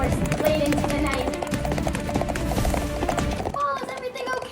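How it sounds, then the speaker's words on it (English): A rocking horse is ridden hard late at night in a puppet show, giving a rapid, continuous clip-clop and creaking rhythm mixed with music and voices. "viciously rode his rocking horse late into the night"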